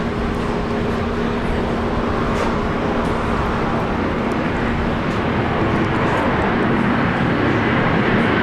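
A jet airliner lands at Brisbane Airport, a loud continuous engine roar and rumble held steadily throughout, close and unbroken.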